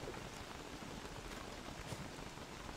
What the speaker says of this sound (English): It's been a whole day of rain.